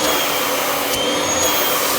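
A Kirby Sentria G10D upright vacuum cleaner runs close up with a steady, loud, unbroken motor whine and rushing airflow for the whole stretch.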